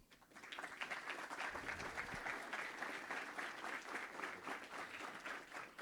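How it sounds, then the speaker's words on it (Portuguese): Warm applause from a business audience welcoming former minister Pedro Parente at a São Paulo commercial association event, a full, even patter of many hands that swells quickly and carries on steadily. "recebemos com a salva de palmas Pedro Parente"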